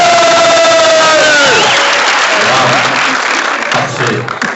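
An excited audience at a film premiere bursts into loud cheering, whooping and applause that fills the hall on cue, with a rising shout at the start and sustained clapping throughout.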